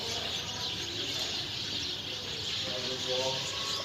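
Faint bird chirps and tweets repeat against a steady hiss of outdoor ambience, with insect-like buzzing and some soft background voices.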